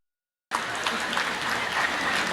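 After a brief silence, a seated audience at Fiji's Civil Service Day 2024 celebration bursts into full, even applause that holds steady to the end.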